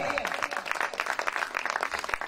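A sermon audience claps in a dense, continuous burst of applause, with murmuring voices mixed into the steady clatter of hands.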